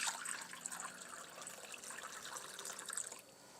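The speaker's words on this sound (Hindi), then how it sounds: "इसके अंदर हम पानी डालेंगे" Water poured from a tap into a bowl, a soft continuous splashing trickle heard close and fairly faint, easing off near the end, with no voices.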